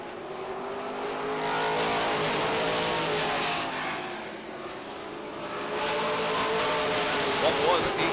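Race cars roar around the oval at Beech Ridge Motor Speedway in 1993, their engines swelling and fading in waves as the pack passes, loud and steady, with an announcer talking over the noise.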